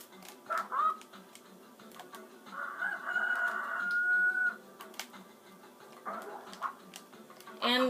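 In the 102 Dalmatians video game, a rooster gives a single sustained crow amid scattered clucks and brief game sounds, with light speech-like chatter at the edges.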